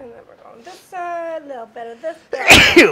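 A sharp, loud sneeze bursts out close by near the end, following a stretch of a person talking in a kitchen while cooking with spices.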